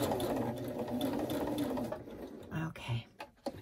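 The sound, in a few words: sewing machine stitching journal pages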